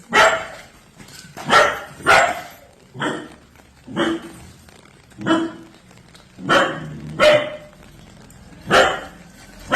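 A dog barks repeatedly close by, about nine loud sharp barks spaced roughly a second apart in an uneven rhythm, with a faint hum of the surroundings between them.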